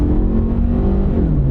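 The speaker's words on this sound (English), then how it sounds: "when you step on the gas, it takes off, and it takes off very smoothly too" A cheap SUV accelerates on a small, quiet road, its engine droning steadily and rising slightly in pitch as it picks up speed, heard from inside the cabin with no talking.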